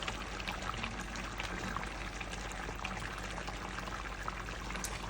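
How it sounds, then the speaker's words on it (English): Water pours steadily into a cooking pot of potatoes for a green bean bredie, a continuous close trickling wash with no talking. "we're going to add some water to this pot as well"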